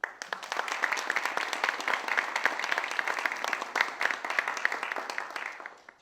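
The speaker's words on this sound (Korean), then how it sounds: "우리 양소영 위원장의 뜨거운 박수를 한번 보내주세요." A lecture audience at Chosun University gives sustained applause, many hands clapping densely and steadily for about six seconds, fairly close, then tapering off at the end.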